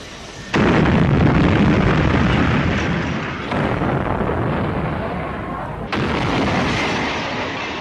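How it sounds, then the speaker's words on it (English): Archive recording of IRA bomb explosions in central Belfast: three heavy, booming blasts arrive one after another, each followed by a loud, rumbling, sustained roar that slowly fades. "20 IRA bombs exploded in central Belfast"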